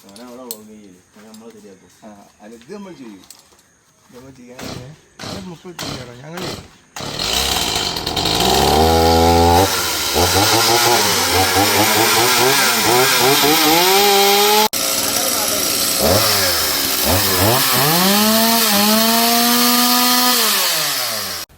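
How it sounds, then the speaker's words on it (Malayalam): A chainsaw cuts through a tree beside Highway 66 near Ponnani, Kerala: after several seconds of quieter clicks and murmuring, the saw roars in loud and close, its engine revving up and down steadily with a brief dip midway. "ഈ മരം ഇങ്ങനെ കട്ട് ചെയ്തെടുക്കുന്നുണ്ടല്ലോ"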